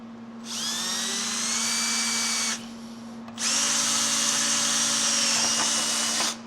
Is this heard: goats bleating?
no